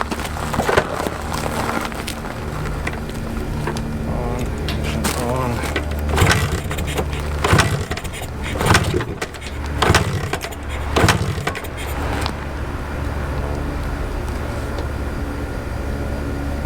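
A 1981 Suzuki TS 250 motorcycle is kick-started, with a run of heavy mechanical thumps and clatter from repeated kicks over a constant low rumble, recorded close.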